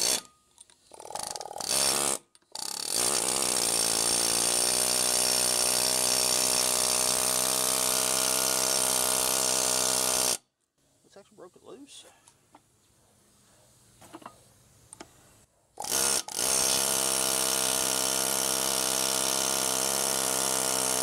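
Homemade air-hammer contraption hammering at a Jeep Wrangler TJ axle U-joint in the stub shaft, a loud continuous mechanical rattling burst that stops briefly, resumes for a long stretch, drops to scattered quiet clicks, then starts again near the end.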